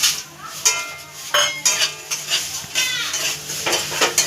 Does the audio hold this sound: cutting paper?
no